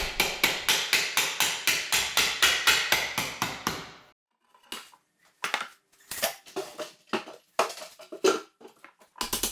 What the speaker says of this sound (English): I had to put this fence in my wood vise and get up on a stool and basically pound these rods out.